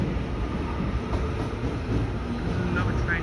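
A commuter train bound for the city pulls into Newmarket station in Auckland, New Zealand, its steady low rumble and rail noise filling the platform with a continuous, fairly loud roar, and faint talk in the background.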